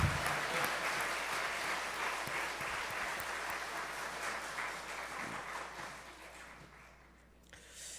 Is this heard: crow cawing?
no